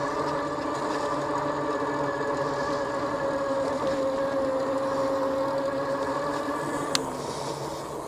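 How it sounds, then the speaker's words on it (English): Rear hub motor of an Aventon Aventure 2 e-bike under throttle while climbing a hill, a steady whining hum with wind noise, continuous and fairly loud, one brief click near the end. "I just throttle on up this thing."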